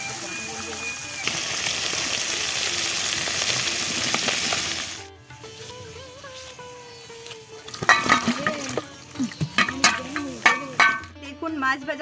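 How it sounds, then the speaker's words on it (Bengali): Freshly caught pond fish fry in a pan with a loud, steady sizzle that drops away after a few seconds, giving way to utensil clatter and a voice. "দেখুন মাছ ভাজা কমপ্লিট।"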